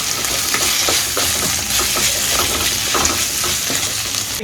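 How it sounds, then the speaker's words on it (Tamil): Ginger garlic paste sautés on low flame for egg chili masala, giving a continuous, fairly loud frying sizzle with occasional stirring scrapes and no talking. "ஸோ இனிமேட்டு லோ ஃப்ளேமில் வச்சு இந்த இஞ்சி பூண்டு பேஸ்ட்டோட அந்த ரா ஸ்மெல் போகிற வரைக்கும் நல்லா வதக்கி கொடுக்கணும்."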